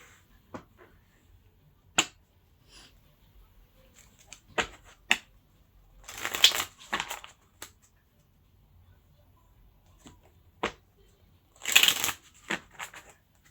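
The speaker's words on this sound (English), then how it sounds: "So now I get into shuffling." Tarot cards being shuffled close up: scattered snaps and flicks, with two louder riffling bursts of shuffling, no talking.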